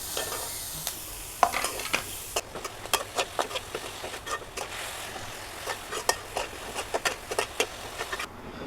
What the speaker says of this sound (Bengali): এগুলো একটু ভালোভাবে ভেজে নিতে হবে।